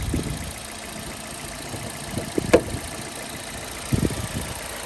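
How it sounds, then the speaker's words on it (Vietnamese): A 2011 Hyundai Avante with a 1.6L engine and manual gearbox idles smoothly, a steady low engine hum running throughout with a couple of brief knocks or clicks near the middle and end. "dòng Hyundai Avante nó nổ rất là êm luôn các bác nhé"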